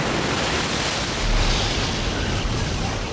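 Winter storm waves pound the battered coastline at the Cape of Good Hope, a loud, dense, unbroken roar of surf and wind with a slight swell partway through.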